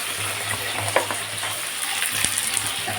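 Onions frying in hot oil with cumin and chilli in a pan where fish was cooked, a steady close sizzle with a few soft stirring scrapes and no talk.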